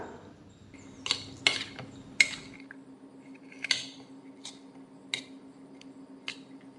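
Light scraping and sharp clinks of a metal spoon mixing flour in a pan, irregular taps over a faint steady hum, close and quiet.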